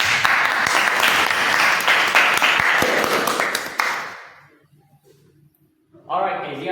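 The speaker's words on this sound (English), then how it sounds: "I want you to applause for Kezia." A studio audience at a talent show applauds contestant Kezia with loud, dense clapping for about four seconds, then it dies away to near silence before a voice begins speaking.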